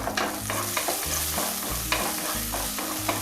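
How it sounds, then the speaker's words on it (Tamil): Garlic, ginger and green chili sizzle in hot oil with fennel and cumin, a steady close frying crackle under repeated stirring scrapes, with no voices. "இது நல்லா பொரிஞ்சு வந்துட்டு இருக்கும்போது நறுக்கி வச்சுருந்த பூண்டை சேர்த்துக்கிறேன்"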